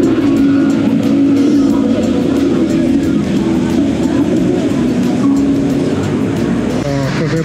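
A McLaren sports car plays from an outdoor advertisement screen, a loud continuous engine drone with a steady hum and road noise filling the whole stretch.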